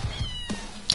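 A person imitates a cat with a short meow, close and clear, during a Fortnite session, with no other talk in the brief moment.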